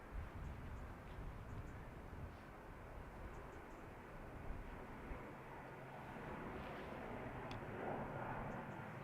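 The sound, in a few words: Aer Lingus airliner arriving from Manchester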